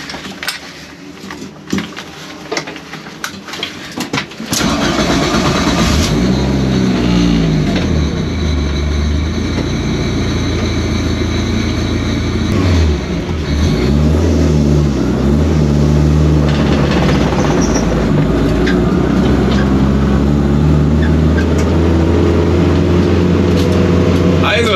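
An Abarth car accelerates hard on the Bilster Berg race track, its engine roaring loud and steady from inside the cabin after a quieter start, with occasional shifts and a voice talking over it.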